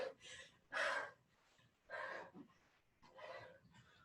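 Heavy breathing right after a Tabata interval: four strong, close exhalations, puffing and gasping at an uneven pace, loud and alone with no talk.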